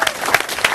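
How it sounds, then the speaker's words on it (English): An audience at a live music interview event breaks into a brief burst of dense applause, loud and close. "Give him a clap."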